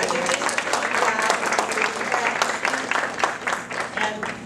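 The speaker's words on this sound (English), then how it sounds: "Let's give another round of applause." At a preschool graduation ceremony the audience gives a round of applause, a continuous crowd of clapping hands heard steadily for several seconds, moderately loud and a little distant.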